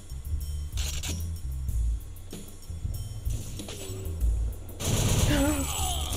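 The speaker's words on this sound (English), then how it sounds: "Who the fuck is shooting?" Gunfire from the video game Chicago 1932 comes as repeated bursts of shots throughout, with a heavier volley near the end, and players talk over it.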